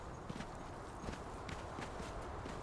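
Horses shuffle and clop their hooves in a stable in the video game Conan Exiles, a quiet, steady patter of soft hoof steps spread across the moment with no talk.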